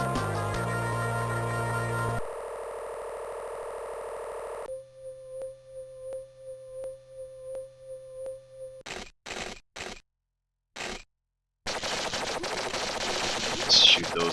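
Video game gunfire aimed at eggs before they hatch, heard as electronic game sounds: steady tones, then a run of sharp, separate shot bursts and a loud, dense blast near the end, with no voices.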